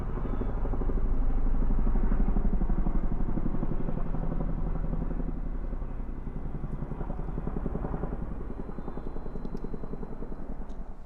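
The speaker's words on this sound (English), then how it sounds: "Little Chinook action going on over the farm there." A heavy Chinook helicopter drones overhead above a farm with a deep, rapid rotor thump, loudest early on and slowly fading as it passes.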